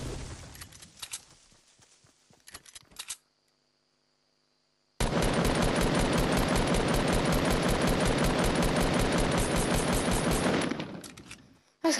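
Rapid automatic gunfire from a video game weapon, with scattered bursts of shots early on, then a brief silence and a long, loud, sustained stream of fire that tails off at the end.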